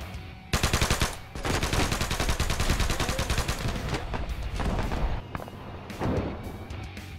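Sustained automatic machine gun fire in the Arma 3 video game, rapid bursts rattling almost continuously for several seconds with brief pauses, loud and close, in a snowy battlefield firefight.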